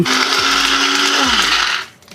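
A kitchen mixer grinder whirs loudly and steadily, blending dates, edible gum, cashews and almonds. The run lasts about two seconds, then winds down to a stop, with no talk.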